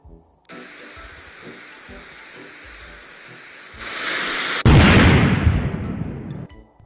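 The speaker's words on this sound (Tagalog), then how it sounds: "narinig kasi namin yung paputok mo kaya pumunta kami dito" A hissing fuse builds and grows louder, then a sudden sharp bang erupts into a loud, crackling burst that fades out.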